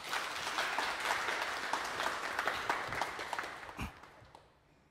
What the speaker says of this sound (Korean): 여러분 큰 박수로 강연을 맞아주시죠